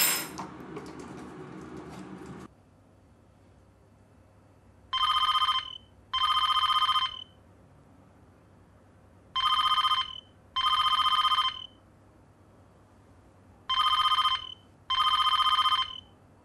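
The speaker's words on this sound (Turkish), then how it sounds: "Canan Hanım, telefonunuz çalıyor." An indoor telephone rings in a Turkish apartment short film, a brief noisy rustle first, then three pairs of clear electronic double rings spaced evenly apart against a quiet room.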